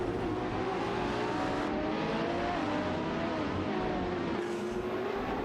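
Lamborghini Sesto Elemento and Aventador SVJ race car engines roar continuously in a racing video game, several cars droning together with loud, rising and falling revs and a brief tire squeal.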